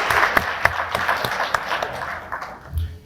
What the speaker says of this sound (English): Round of applause for those young men.